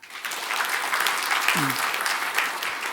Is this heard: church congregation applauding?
yes